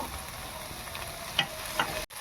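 Pitha curry sizzles quietly in a pan, a soft, steady frying hiss broken by a few light clinks of stirring near the end.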